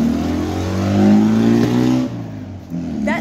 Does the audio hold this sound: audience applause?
no